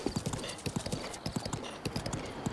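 Horse hooves clip-clop at a steady trotting rhythm in The Legend of Zelda: Breath of the Wild, crisp evenly spaced knocks sounding close with a faint ambient bed beneath.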